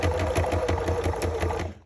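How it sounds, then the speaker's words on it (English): A sewing machine stitching through thick fabric, its needle hammering in a fast, even rhythm close up for nearly two seconds before stopping abruptly. "Turn down your sound if you don't like the sound of a sewing machine."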